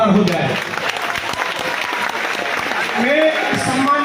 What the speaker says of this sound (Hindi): जबरदस्त तालियों का आभार हो जाए